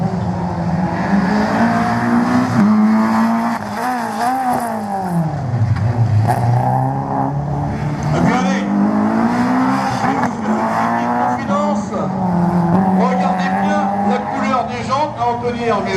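A race car at the 2024 Agon-Coutainville slalom pulls away and accelerates hard, its engine note rising and falling through gear changes under continuous loudspeaker commentary from a man.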